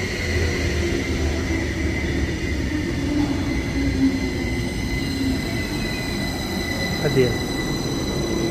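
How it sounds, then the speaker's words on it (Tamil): Low rumbling of trains at a busy railway station in Oerlikon, Zurich, Switzerland, with a steady hum, a brief wheel squeal near the end, and a few words spoken faintly over it. "இதுவும் நிறைய ரயில்கள் வந்து போகிற இடம்."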